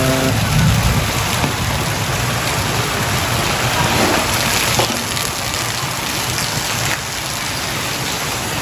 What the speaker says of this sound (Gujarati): કેવો વરસાદ થયો હતો તમને બતાવું ધૂમ મસાઈ રહ્યો છે આજ તો વરસાદ